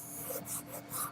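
A hand rubs firmly over a vinyl floor tile held down with tape, giving several short, close scuffing strokes in quick succession.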